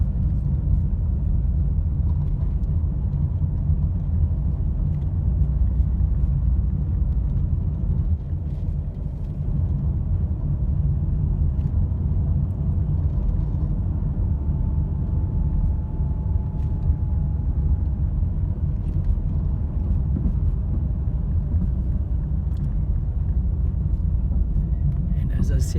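A car descends a hill on a scenic drive with Hout Bay in the distance, giving a steady, continuous engine and road rumble from inside the cabin throughout.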